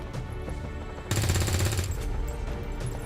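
Gunfire erupts in the video game XCOM 2, a sudden burst of rapid automatic shots lasting under a second, followed by fainter game sounds.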